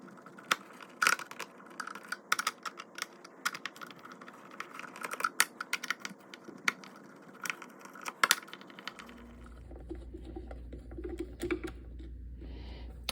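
Phillips head screws being undone from the base of a Vitamix 5200 blender: irregular small clicks and metallic rattles, close and quiet, ending in a low steady hum with no speech.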